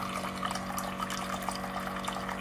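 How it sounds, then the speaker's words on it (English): An Aquasana countertop water filter dispenser runs its first flush, giving a steady, fairly quiet stream of water over a constant mechanical hum. "this will be the first time this is run. This will be flushing the system."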